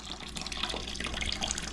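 Water runs steadily through a newly installed refrigerator water filter, a continuous close trickle and hiss of flowing liquid with faint dripping, heard alone without talk.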